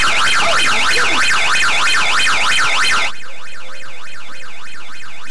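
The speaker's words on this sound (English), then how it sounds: "If it goes into alarm, this is what it sounds like." A home security system alarm, a loud rising-and-falling electronic siren that wails in rapid cycles, then drops abruptly in volume about halfway and continues more faintly.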